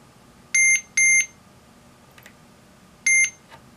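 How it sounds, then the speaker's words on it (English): A Heathkit IM-2264 digital multimeter sounds its continuity alarm as the test leads touch: three short, sharp high-pitched electronic beeps, two close together then one after a pause, loud and clear over a quiet background. "I pushed in the alarm button so the audible alarm should sound"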